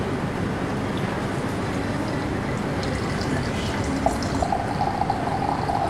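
Water poured during a Chinese tea ceremony, a steady close pouring and trickling stream with small drips and faint clinks of teaware near the end.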